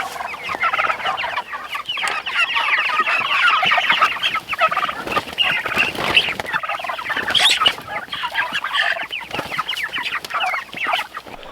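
A flock of meat chickens on a homestead clucks and squawks continuously for over ten seconds, many birds overlapping in a busy, loud chatter close to the listener.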